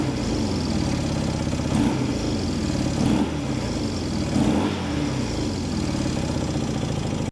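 The engine of a 1972 project vehicle idles at a fast, steady rumble, then blips up sharply three times and drops back quickly after each rev, close and loud with no speech.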